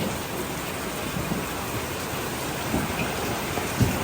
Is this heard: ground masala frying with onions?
no